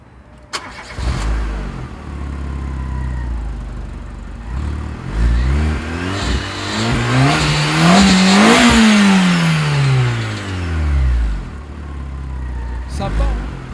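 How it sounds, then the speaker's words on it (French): A small petrol engine of a Citroën C2 VTS starts and revs up in a long rising then falling sweep, loud and close, settling back toward idle. "Typiquement le bruit des petites VTS, des moteurs essence."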